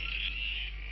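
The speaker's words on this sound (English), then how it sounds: "Cripes! It's the bleeding froggies!" Frogs croak in a video game, a brief continuous trilling chorus with a steady buzzing quality, moderately quiet and unbroken for about a second with no voices.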